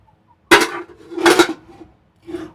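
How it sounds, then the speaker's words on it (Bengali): A metal lid lifted off a pot of puffed rice, giving two close, bright clanks in quick succession and then a softer clink as it is set down. "এবার আমি ঢাকনা খুলে দেখে নেব"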